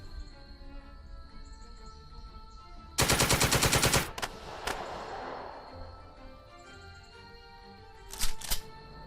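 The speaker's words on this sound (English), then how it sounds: "If I can pin down the machine gun" A loud, rapid machine gun burst of about a second rattles out in the hex-based squad tactics game Second Front, followed by scattered cracks and a short second volley near the end over a quiet ambient hum.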